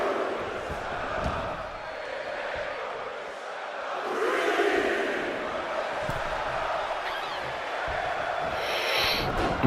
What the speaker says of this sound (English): the English crowd are here, chanting for Roman Reigns